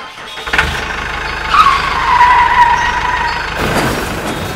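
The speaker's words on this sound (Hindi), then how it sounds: "शॉन ट्रैक्टर को स्टार्ट करता है और ले जाकर पेड़ पे ठोक देता है" A cartoon tractor's engine starts up and revs with a rising, whining mechanical drone that holds steady for a few seconds before a louder burst near the end. No voices are heard.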